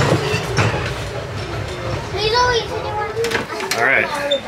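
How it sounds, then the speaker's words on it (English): The Disneyland Railroad train rolls along with rumbling wheels and rhythmic clacks, a whistle-like tone rising midway, while riders, including a child, chatter over it. "the Disneyland Railroad"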